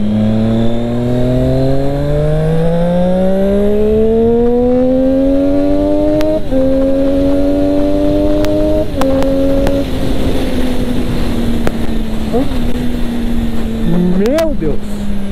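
Triumph Street Triple 675R motorcycle with an Akrapovic exhaust, being tested to see whether the exhaust tip works loose: a loud, steady engine drone that slowly climbs in pitch, then holds near idle with a few quick throttle blips.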